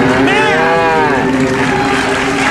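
A cartoonish cow moo sound effect, the flying cow from Twister, plays as one loud, drawn-out bellow that bends up and down in pitch over a steady background rush.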